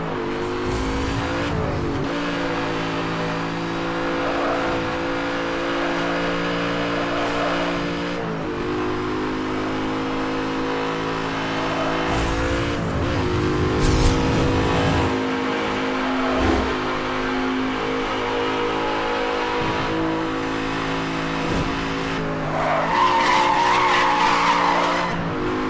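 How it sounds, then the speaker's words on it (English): A car drifts with the handbrake in Need for Speed Hot Pursuit Remastered, a continuous engine drone rising and dropping between gear changes, with tire squeals and skids building toward the end, loud and steady. "then you will have to press hand brake for drifting to get the drift right, or brake to drift"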